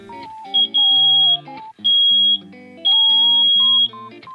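Loud electronic alarm buzzer, an upgraded louder security buzzer fitted into a Daiso sensor light, sounding in three long, piercing tones separated by short pauses, close and dominant.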